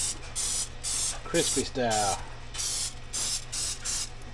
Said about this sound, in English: I'm just using that butter flavored spray.